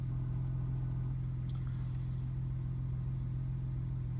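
A Porsche 911 Carrera 4 GTS engine idles with a steady, deep, even drone that stays constant throughout, with no revving.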